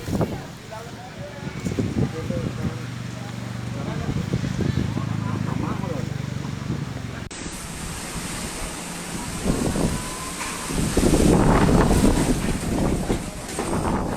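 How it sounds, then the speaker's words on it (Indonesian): Strong wind gusting through trees and overhead cables in Cibinong, Bogor, a loud continuous roaring rush with buffeting microphone noise, swelling stronger toward the end. "Warga berteriak melihat pohon dan kabel bergerak cepat tertiup angin."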